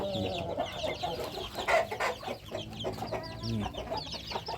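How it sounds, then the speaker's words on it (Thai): Chickens cluck close by in a steady, busy stream of short calls, with a few louder squawks rising above the flock. "ไก่น้อยตัวนี้นะครับ"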